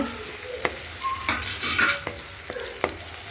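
Onions fry in a pan for sambar, sizzling steadily up close while a spatula scrapes and taps the pan in several sharp, irregular strokes, with no talking.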